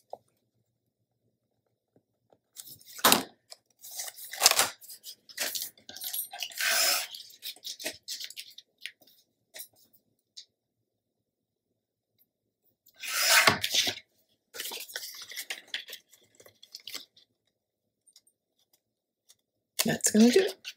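Scissors snip through paper for a mini album in short bursts of crisp cuts, separated by pauses, close and moderately loud.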